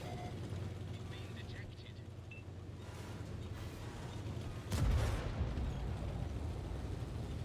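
A Panzer 7 tank cannon fires in a tank video game, a single heavy boom near the middle followed by a rumbling tail over continuous battle noise and engine drone, with talk running throughout.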